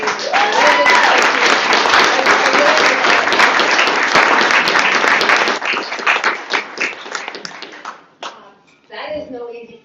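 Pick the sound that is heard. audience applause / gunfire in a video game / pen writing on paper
audience applause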